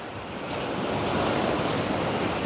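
Rough ocean surf off Hawaii near Diamond Head makes a continuous broad roar of waves mixed with wind buffeting the microphone, steady and fairly loud with no voices.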